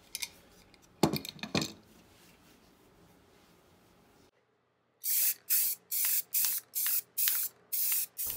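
Rust-Oleum matte spray paint from an aerosol can, sounding as a series of about eight short, sharp hissing bursts in even rhythm after a few quiet clicks and handling noises.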